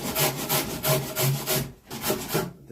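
Stout rougher rasp shaping a foam full-body deer form for taxidermy mounting, steady back-and-forth rasping strokes, loud and close, about six rhythmic passes with a brief pause near the end.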